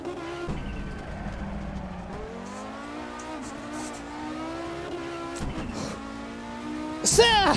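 A Group B rally car laps the Nordschleife, its engine revving and climbing through gears with shifts and lifts, close and loud, with a burst of tire or wind noise at the end while a voice talks over it.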